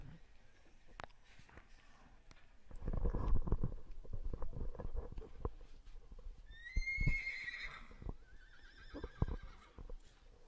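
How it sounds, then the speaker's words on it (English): A 12-year-old Palomino gelding ranch horse lets out a loud, high whinny midway through, with shuffling hoof thumps and low rumbles before it and a fainter second whinny shortly after, at a horse sale. "The big 16 two-hand Palomino gelding."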